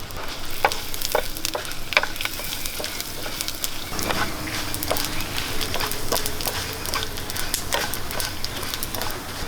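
Cardamom, coriander, fennel seeds and dried chilies dry-roasting in a pan, with a steady crackling hiss and frequent scraping clicks of stirring, close and fairly loud with no talk.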